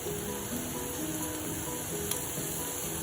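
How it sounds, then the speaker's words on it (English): Steady, dense sizzling of minced meat frying in a hot pan for spaghetti bolognese, a continuous crackling hiss with no voices. "Okay, you should hear that sizzle."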